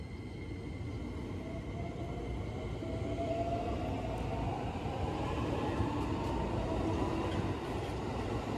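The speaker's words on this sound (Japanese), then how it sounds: "さあ、逗子葉山を発車です。" Commuter train running between Zushi-Hayama and Mutsuura stations in Japan, a steady continuous rolling rumble heard from inside the carriage, moderately quiet with faint rising motor whine and no talk.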